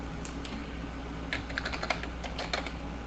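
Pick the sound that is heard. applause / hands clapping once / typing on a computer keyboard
typing on a computer keyboard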